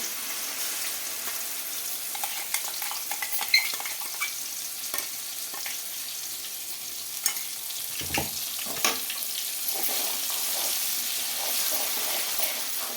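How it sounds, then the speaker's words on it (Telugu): Cashew and onion paste frying in a pan for a chicken dish, a soft continuous sizzle with light spoon scrapes and a brief clunk midway. "ఇలా ఫ్రై చేసుకున్న తర్వాత మనం జీడిపప్పు ఆనియన్స్ పేస్ట్ అయితే వేసుకుందామండి"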